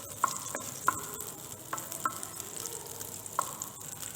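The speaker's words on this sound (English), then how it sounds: "So first melt the butter in a pan." Butter melting in a pan ahead of boiled potatoes for pommes parmentier, a soft sizzle under several sharp clicks of a utensil tapping and stirring against the pan.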